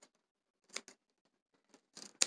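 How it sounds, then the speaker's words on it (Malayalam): Sharp snipping of scissors cutting grass, several quick close crisp cuts in short bursts separated by silence. "കത്രിക വെച്ചോ കത്തി വെച്ചോ അരിയ"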